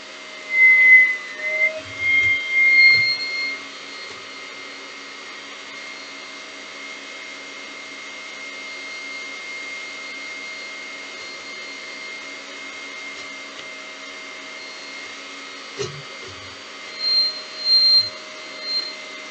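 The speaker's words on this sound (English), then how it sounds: "cream the butter and the sugar together for 15 minutes with a whisk at high speed" An electric whisk creams butter and sugar at high speed for chocolate chip cookies, producing a steady, high-pitched motor whine with a few low clatters and bumps near the start and end.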